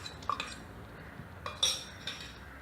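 Yogurt being stirred into chicken biryani in a pot: a few quiet, sparse clinks and scrapes of a metal spoon against the vessel over a faint, low background.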